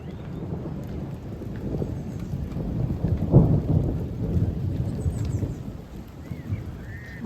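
Steady rain patters on a shed throughout while low thunder rumbles overhead in the background, swelling briefly in the middle.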